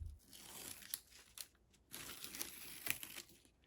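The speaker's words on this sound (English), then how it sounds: "So we can peel the tape off." Masking tape is peeled off watercolor paper in a few quiet, close strips, with soft tearing and crinkling rasps that come in short bursts separated by brief pauses.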